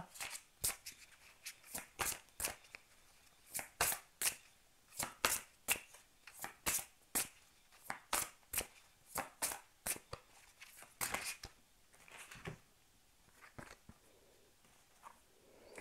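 Tarot cards being shuffled by hand, a quick run of crisp riffling slaps and flutters in irregular bursts, close and fairly loud, with no talk over them.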